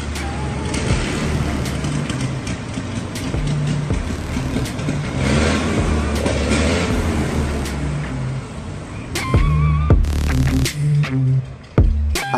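A small engine idles and revs on a vintage baquet race car at a 2022 motor show, steady and close with a throbbing low rumble, and rises to a louder burst near the end.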